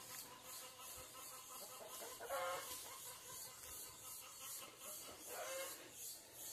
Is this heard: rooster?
yes